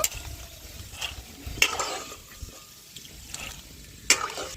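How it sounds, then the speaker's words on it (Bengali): Fried peanut bhujia being lifted out of hot oil: a soft, steady frying crackle with occasional sharper scrapes and clinks of a spoon or strainer against the pan, close and moderately quiet. "এবার তেলটা ছড়িয়ে তুলে নেব"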